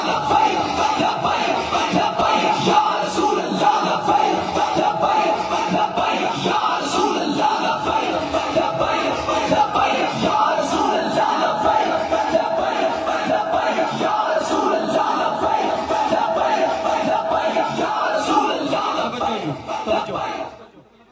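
A large gathered crowd at a religious assembly chants labbaik slogans with raised hands, a loud, dense wall of massed voices sustained for about twenty seconds before fading at the end.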